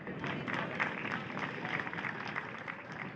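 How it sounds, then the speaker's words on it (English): Crowd applause for the Senior X30 kart racing finalists at a Sunday finals event in Wackersdorf, Germany, a steady dense clatter of clapping from a sizeable outdoor audience lasting the whole stretch, fairly distant and even. "big round of applause for your finalists in Senior"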